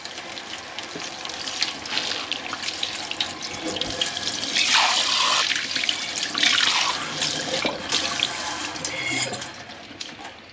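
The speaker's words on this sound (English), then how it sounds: "Again, we're going to wash it down with water." Tap water running over a spray-painted tumbler being rinsed at a sink, a steady splashing stream that swells louder in the middle before easing off.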